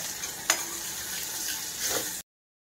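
Turmeric being stirred into chillies and food frying in a pan, with a steady close sizzle broken by a couple of sharp scraping stirs, no talking.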